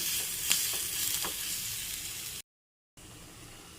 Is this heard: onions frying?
yes